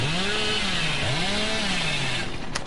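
Chainsaw revving in the video game Dead by Daylight, a loud continuous snarling drone with rising and falling pitch sweeps that ends abruptly with a short clatter.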